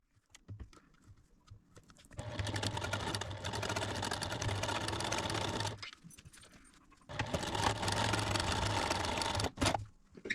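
A sewing machine joining fabric potholder squares, running in two long steady bursts of close, buzzing stitching separated by a brief pause, with small clicks and handling noises around them.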